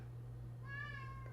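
A grumpy orange house cat lets out a single faint, drawn-out meow over a low steady hum.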